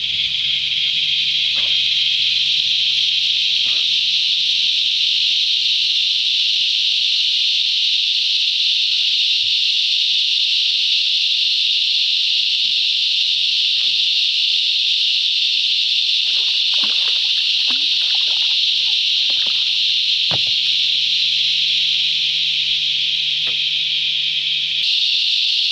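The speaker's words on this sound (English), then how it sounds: "Cicadas are going flat out above us" Cicadas drone loudly and continuously from trees above a river on the north coast of New South Wales, a steady shrill buzz that holds for the whole stretch with only faint scattered splashes and knocks beneath it.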